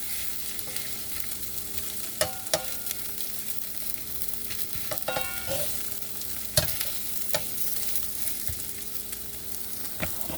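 Fries spread across a hot frying pan sizzle steadily throughout, with a few sharp scraping clicks and taps of a utensil against the pan rising above the hiss.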